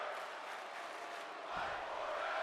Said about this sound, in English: The crowd chanting for them to fight forever.